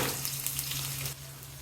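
Chopped onion frying in oil for a hilsa fish curry with potato and stems, a steady close hiss of sizzling that drops slightly softer near the end, with no talking.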